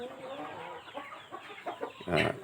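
Six-month-old fighting cocks clucking and calling at a breeding farm in Buriram, Thailand, several birds close by with irregular short calls and a louder burst near the end.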